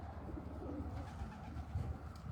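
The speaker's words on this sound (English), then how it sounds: "Oh, another bird." Racing pigeons return to the loft after a 200-mile race, with faint cooing and soft bird calls over a low background hum.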